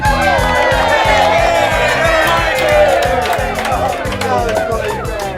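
A whole family cheers loudly to welcome a man home, a dense crowd of excited voices with whoops and shouts, steady throughout over rhythmic music underneath.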